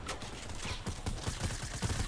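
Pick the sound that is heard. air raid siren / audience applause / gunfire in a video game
gunfire in a video game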